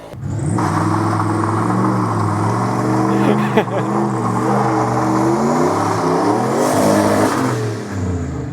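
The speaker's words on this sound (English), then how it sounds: "My neighbor just did a burnout outside just to prove that his car is better than mine." A neighbour's car does a burnout outside, and the engine revs hard with rising and falling harmonic tones. It stays loud and steady for several seconds, then surges again near the end.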